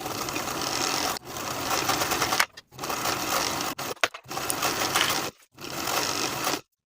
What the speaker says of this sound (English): Now I'll sew my hems in place, edge stitching close to the inner raw edge all the way around both pant legs.